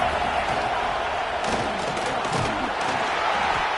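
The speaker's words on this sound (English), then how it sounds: "The crowd getting behind this defense as they try to get a stop in the red zone." Stadium crowd roaring steadily at a football game as the defense tries to make a stop in the red zone, a loud dense wall of cheering with swelling shouts throughout.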